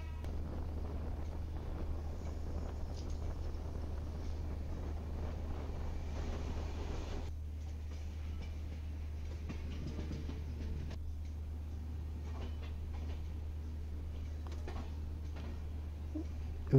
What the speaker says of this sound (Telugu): ఇంకా ట్రైన్ స్టార్ట్ అయిపోయింది.